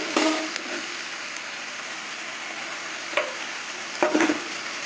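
Dal sizzles steadily in hot oil in a pan while frying, a soft continuous hiss punctuated by a few brief clinks and stirring knocks.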